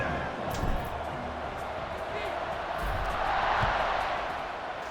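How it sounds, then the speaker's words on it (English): A dense, steady roar of a stadium crowd buzzing after a score in an NCAA college football video game, a continuous broad wash of many voices with slight swells, heard beneath game commentary. "this crowd is buzzing after that last score"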